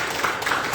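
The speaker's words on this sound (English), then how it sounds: "Let's give him a round of applause, please" Audience applause for a guest speaker at a medical marijuana advocacy gathering, a brief steady wash of many hands clapping at moderate loudness with no talk over it.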